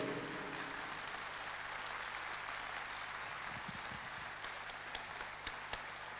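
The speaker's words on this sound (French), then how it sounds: "Je voudrais aussi qu'on applaudisse les techniciens français et roumains qui m'ont aidé à faire le spectacle." Concert audience at the Sala Palatului applauding the French and Romanian technicians of a show, a broad, steady wash of many hands heard from a distance, with a few sharper nearby claps punctuating the final seconds.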